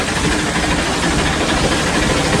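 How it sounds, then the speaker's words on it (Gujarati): A tractor engine runs steadily nearby in a farm setting, a loud, continuous rumbling drone with no break and no talk over it. "ટ્રેક્ટર વાળો છે હા"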